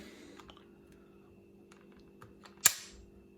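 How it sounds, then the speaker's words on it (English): The fire selector on a King Arms P90 airsoft gun clicking through its settings, a few soft small clicks followed by one sharp, loud snap, close and quiet with no talk. "Nice satisfying click, flick to automatic, single shot, safety"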